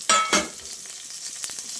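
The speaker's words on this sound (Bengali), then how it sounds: "কাঁচা লঙ্কাগুলো দিয়ে দিচ্ছি" Slit green chillies dropped into a hot pan for a matar shaak ghonto, two sharp sizzling bursts at the start, then a low steady frying hiss with faint stirring scrapes.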